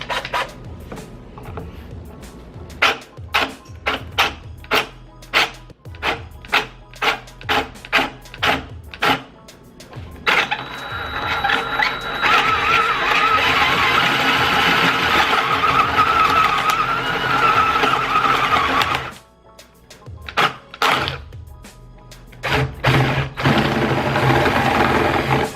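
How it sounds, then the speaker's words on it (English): A spade bit on a power drill bores through a speaker cabinet case, with rapid pulsing bursts of drilling followed by a long sustained grinding run, a pause, then more short bursts, loud and close. "So now that the pilot hole is drilled, we're going to switch over to the spade bit,"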